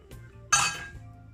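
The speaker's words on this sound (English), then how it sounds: "Now I'm gonna set my strainer in" A metal strainer set into a mixing bowl, a single bright metallic clink that rings briefly before dying away, with quiet kitchen background.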